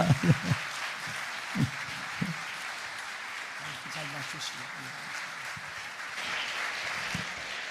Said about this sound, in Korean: 선교사님 이제 메실 때 우리 큰 박수로 한번 환영하도록 합시다